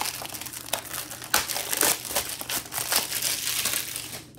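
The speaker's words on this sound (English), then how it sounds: "So let's take off the shrink wrap, see if we have any goodies inside." Shrink wrap crinkles and crackles continuously in close, irregular bursts as it is peeled off a Blu-ray case.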